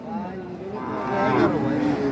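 A large bull at a busy cattle market in Comilla lets out a single drawn-out low moo, close and moderately loud over faint background murmur.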